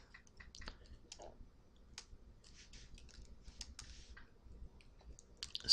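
Scattered computer clicks and taps sound close and crisp in irregular bursts over a quiet background while someone works through software settings.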